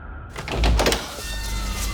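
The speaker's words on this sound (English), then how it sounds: "I just go and open the door." A front door swings open with a muffled thunk and brief rattle, then a lingering low rumble and hiss, heard close and alone.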